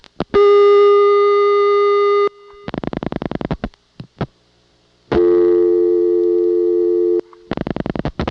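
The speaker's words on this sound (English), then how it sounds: "Let me dial 625 and see whether it's sending that through the tandem or whether it's got a direct trunk." Call progress tones on a 1982 Siemens telephone exchange: long steady buzzing tones alternate with rapid pulsed bursts and brief clicks, all loud and clean, with gaps of silence and no voices.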